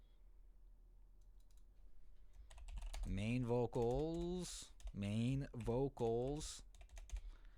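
Rapid clicking of a computer keyboard being typed on in a recording studio while a session is set up. The keystrokes are close and light, and someone talks over them partway through.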